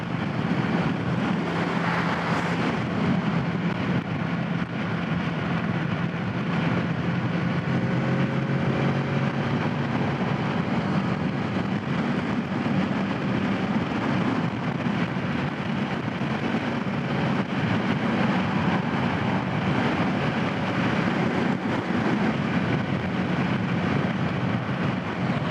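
A Kawasaki Z650 motorcycle is ridden at speed, giving a constant roar of wind and engine noise that stays even and unbroken throughout, with no speech.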